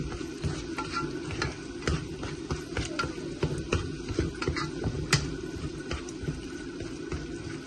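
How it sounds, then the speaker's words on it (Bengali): Masala spices with tomato puree for chana dhaal bhuna are stirred and sautéed in a pan, a steady soft sizzle broken by repeated scraping and tapping of the spoon against the pan, close and alone without talk. "মশলা কষক মশলা কষি হারলে আরও কিছু ড্রাই হোক মশলা"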